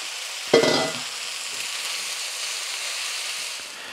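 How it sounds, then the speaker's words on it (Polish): Chicken and pearl barley sizzle and hiss steadily in a large hot pan, with a brief louder clatter near the start as something is stirred or tossed in. "Wrzucamy do tej naszej dużej patelni i tak smażymy przez 5 minut."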